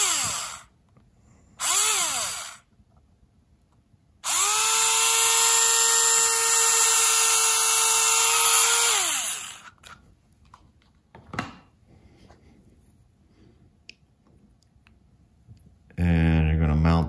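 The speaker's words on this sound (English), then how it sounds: "drill a hole, not too deep," Short bursts of a power drill whining as it drills a shallow hole into the bottom of a figure, then one long sustained drilling run of several seconds, stopping and starting again at the end.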